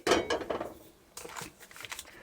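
A metal frying pan clanks and scrapes as it is set on a stove a few times, with a couple of sharp knocks followed by lighter rattles.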